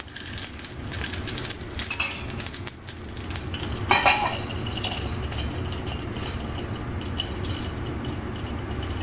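Urad dal frying in hot oil while being stirred, a continuous crackling sizzle with repeated metal spoon scrapes and clinks against the pan, close and steady throughout.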